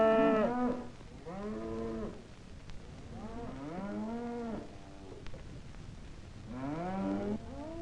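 Cattle low at stockyards in Wichita, Kansas: several drawn-out moos overlap at moderate distance over a steady open-air background hum, with no talking.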